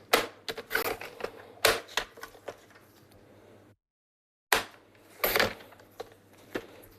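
Card stock is trimmed on a paper cutter with a series of close, crisp clicks and scraping slides, pausing briefly in silence before more snips follow, with no talking.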